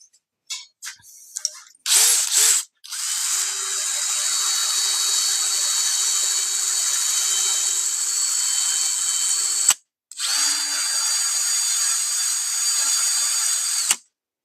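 Power tools whine in a woodshop while wood is drilled and sawed, with short bursts at first followed by a long steady run of about seven seconds, then a brief pause and another sustained run. No one speaks.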